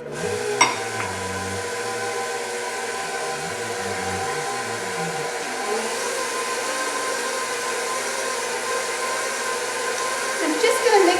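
An electric mixer whirs steadily through muffin batter in a kitchen, a continuous motor drone with slight shifts in pitch early on and a small clatter near the end.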